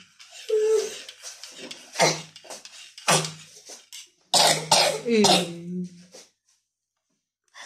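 A child coughs hard several times in bursts, close by, with some rasping breaths and a short voice between fits.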